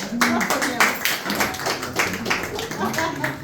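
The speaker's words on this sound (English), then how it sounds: "And really quickly before Orlando, y'all can clap, please." An audience claps in a steady patter of applause, mixed with voices.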